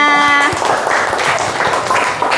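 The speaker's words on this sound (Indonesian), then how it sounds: "Iya, tepuk tangan semuanya." Children in a classroom clapping their hands together in a quick burst of scattered claps, following a brief spoken voice at the start.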